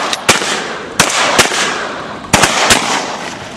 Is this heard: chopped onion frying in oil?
no